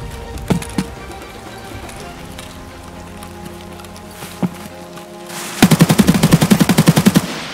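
Gunfire rings out in Escape from Tarkov: a few scattered single shots early, then a rapid automatic burst of about a dozen rounds near the end, loud and sharp.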